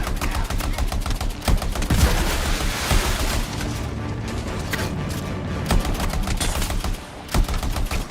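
Rapid gunfire in the video game Anthem, dense bursts of automatic shots and booming impacts rattling almost continuously, loud and close, with brief lulls between volleys.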